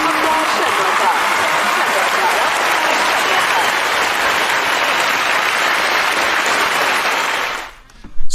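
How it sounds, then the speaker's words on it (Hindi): A studio audience breaks into loud sustained applause welcoming a guest doctor onto a health talk show, dense clapping that holds steady for several seconds before cutting off as speech resumes. "जोरदार तालियों के साथ स्वागत करें"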